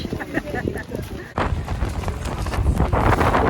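Gusty wind buffets the microphone outdoors on a cruise ship deck, a rough low rumble that strengthens partway through and keeps building toward the end.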